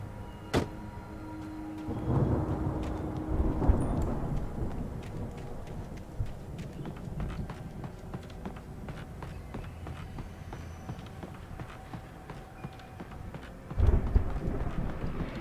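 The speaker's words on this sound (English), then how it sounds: "that storm we all felt coming is finally here" Stormy ambience from the video game Alan Wake: a low rumble of thunder rolls under steady rain, with footsteps and scattered knocks throughout and a heavier thump near the end.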